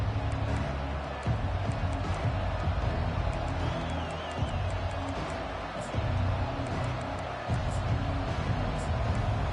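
Stadium crowd noise at a football game, a broad steady roar of a large crowd with a low rumble that swells and dips slightly, continuous throughout with no clear voices standing out.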